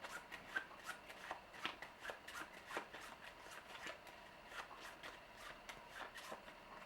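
Playing cards for the Forbidden Island board game are shuffled in a quick run of soft riffling snaps, faint and close, with no talking.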